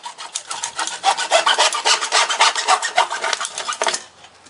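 Hacksaw cutting through thin-walled PVC drain pipe, a close, loud rasping stroke repeated rapidly and steadily for about four seconds before stopping.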